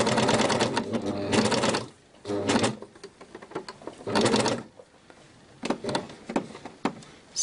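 A sewing machine stitches a summer top in rapid, buzzing bursts, running in several close stretches with brief pauses between them as the seam is overlapped.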